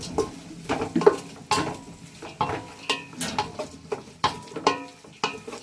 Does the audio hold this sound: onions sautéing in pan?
yes